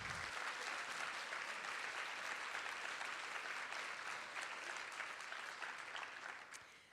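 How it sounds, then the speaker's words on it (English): A conference audience gives sustained applause, dense and steady throughout before tapering off slightly near the end, with no talk over it. "Give them a big round of applause"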